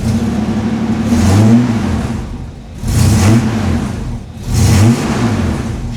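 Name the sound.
Holden VL Commodore engine revving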